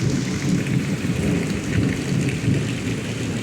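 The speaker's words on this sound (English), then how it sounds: "This is a very vocal storm." Severe thunderstorm with heavy rain pouring down and low thunder rumbling continuously beneath it, loud and close with no voices.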